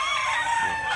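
A rooster crows at a gamefowl farm of the Duke Hulsey Grey and Mclean line, a single strained, nasal call heard close and fairly loud over a brief second.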